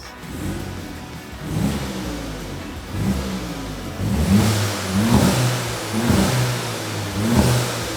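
A Volkswagen Polo GTI engine with stock exhaust revs up repeatedly, several rising bursts of throttle with a muted, fairly quiet exhaust note between them.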